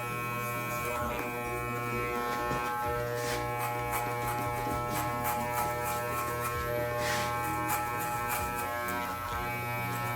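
Electric hair clippers buzz steadily at close range throughout a home haircut, a continuous even drone with faint variations as the blade works along a line, with no talking.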